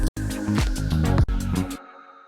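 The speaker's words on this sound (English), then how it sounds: "it's pitch bending a sine wave down with some noise" A pew synth effect made in Serum, a sine wave pitch-bent downward with added noise, fires as a few bright descending zaps. The zaps come in quick succession with a short break, then the sound cuts off to near silence.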